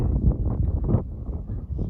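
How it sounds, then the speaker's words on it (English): Steady wind blowing across an open canoe landing platform, a continuous low rushing buffet on the microphone with slight gusts throughout, no voices. "Wind's coming directly this way."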